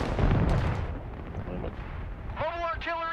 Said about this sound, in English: Mobile artillery ready. Oh, that's shells.